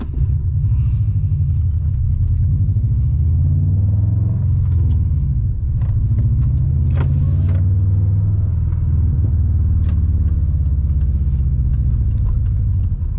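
Swapped Subaru Impreza GC8 2.5RS rally build on the move, a steady loud low engine drone and road rumble filling the whole stretch, with a brief rise in pitch partway through and no talking.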